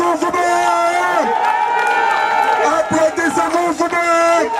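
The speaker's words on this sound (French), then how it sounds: "Applaudissez-vous vous-même!" A large crowd at a political rally cheers, whoops and claps, a dense roar of voices and applause that stays loud throughout with shouted tones rising above it.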